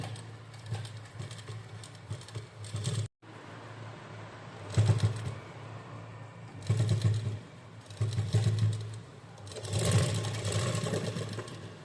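A sewing machine stitches white or silver lace onto a gathered umbrella frock. Its needle hums steadily in several bursts, with a brief pause early on and louder runs toward the end.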